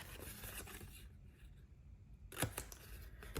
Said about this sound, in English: I'm going to take my paper snips and I'm just going to cut up to the first score line and cut that off.